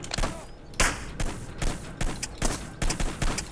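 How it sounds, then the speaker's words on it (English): Rifle fire in Hitman Blood Money cracks out in a rapid series of loud, close shots with thuds between them, each sharp report following quickly on the last. "That's how come you can't survive my rifle shots."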